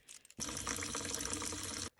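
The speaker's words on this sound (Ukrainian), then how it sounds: "Промила під проточною водою." Running tap water pours steadily over a silver bracelet being rinsed, a close, continuous splashing rush that starts abruptly and cuts off near the end, with no talking.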